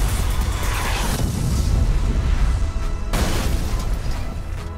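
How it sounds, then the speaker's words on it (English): A crash breaker car explosion in the racing game Burnout Revenge: loud, dense booming blasts with a rumbling low end, one surge at the start and a second sharp burst about three seconds in, with no talk over them. "explode your car by pumping up the crash breaker. The faster you pump, the bigger the crash breaker explosion."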